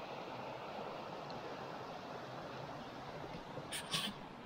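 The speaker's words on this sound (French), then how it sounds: "Ah, ce petit ruisseau." Small mountain stream in the Basque Country hills, flowing steadily as a continuous broadband rush of water, fairly close and even throughout, with a brief brighter splash near the end.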